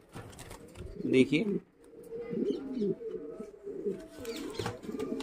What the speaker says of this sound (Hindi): गाइस, ये एक अमेरिकन फेंटल का पेयर है, येलो कलर में फीमेल है और वाइट कलर में मेल है।